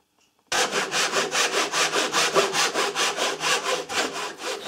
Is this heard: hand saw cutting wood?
yes